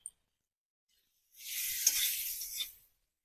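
Kashmiri chili powder masala sizzles loudly in a hot pan for a second or so as it is stirred, a bright hiss rising after a short silence, with no voices.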